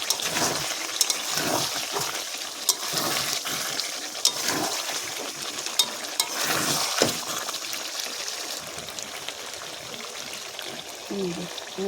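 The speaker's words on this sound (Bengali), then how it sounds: "সামান্য জল মেশাবো আমি" A little water goes into a coriander chicken curry with potatoes, a soft continuous pouring and gentle bubbling wash under a voice talking throughout, with occasional light clinks.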